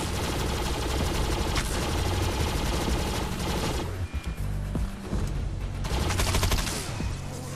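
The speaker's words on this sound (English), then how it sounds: "too many of them shooting at me" Sustained enemy gunfire in the sci-fi shooter Defiance, dense overlapping automatic bursts rattling continuously with a brief dip midway before the volley resumes, loud and unbroken, with no talking.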